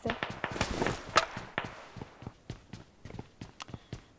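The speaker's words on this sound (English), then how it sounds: "Footstep can be heard." Footsteps in a video game, a run of crisp, evenly spaced steps close by, starting busy under other game noise and thinning to separate distinct treads.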